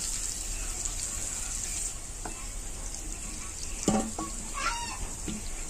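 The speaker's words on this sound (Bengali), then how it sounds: "আলুগুলোকে একটু লাল লাল করে ভেজে নেব" Potato pieces with turmeric and salt frying in oil in a pan, a quiet continuous sizzle with occasional clatter and stirring knocks, no talk.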